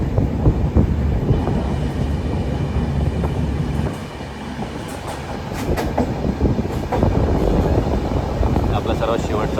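A moving Konkan Railway train heard from on board, a loud continuous rumble with rattling and rhythmic clatter of the wheels that dips briefly midway and then returns.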